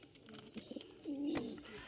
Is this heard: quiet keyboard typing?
no